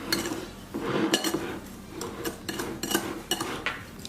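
A spoon mixes apple pie filling of diced apples, sugar, cinnamon and nutmeg in a bowl, producing close irregular scrapes and clinks of utensil against dish, with no talking.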